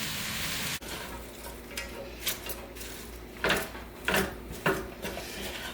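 Chopped cabbage cooking in a wide pan, a steady sizzle punctuated by several scraping, clattering strokes of a utensil as it is mixed, close and fairly loud, with no talking.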